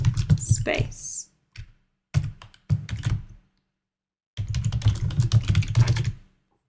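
Typing on a computer keyboard in short close bursts of clicky keystrokes, broken by pauses, with someone speaking in between.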